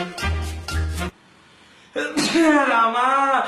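A person sneezes once, a sharp burst, followed by a short pause and then other people speaking close by.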